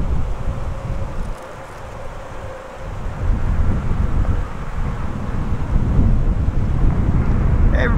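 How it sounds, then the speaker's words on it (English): Heavy wind buffets the microphone in loud, rumbling gusts that swell and ease, with a faint distant rumble of traffic. "It's a pretty windy day."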